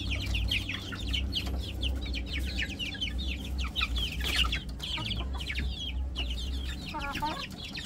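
Chicks and chickens packed into an overcrowded coop in a backyard poultry setup, giving off constant overlapping cheeps and clucks with a steady low hum beneath, and a brief louder squawk near the end.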